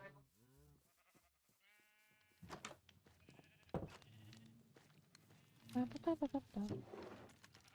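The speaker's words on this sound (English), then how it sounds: "Hello, sheeps" Sheep in the game Minecraft bleat in short wavering calls, some close and loud toward the end, alongside game footsteps while a person talks throughout.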